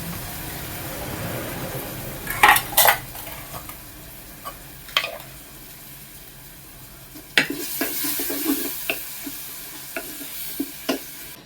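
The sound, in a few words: chickpeas added to pan for curry, sizzling and stirred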